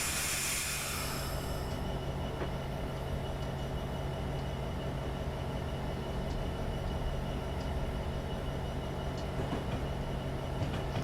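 A train in Train Simulator 2015 brakes toward a stop, producing a steady low rumble and rolling drone with a brief hiss of air at the start, followed by faint clicks and creaks throughout.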